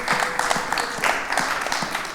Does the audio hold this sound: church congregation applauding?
yes